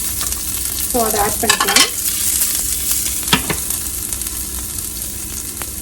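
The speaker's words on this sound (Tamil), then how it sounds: "கொஞ்சமாக கடுகு பொரியட்டும்" Mustard seeds, crushed garlic and dried chillies frying in hot oil, a constant sizzle with a few spoon scrapes and clinks, while someone talks briefly over it.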